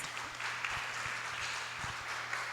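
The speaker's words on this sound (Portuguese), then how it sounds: "Vamos aplaudir o Senhor Jesus." A church congregation applauding during a family service, steady moderate clapping from a crowd throughout, fairly distant and even with no talk over it.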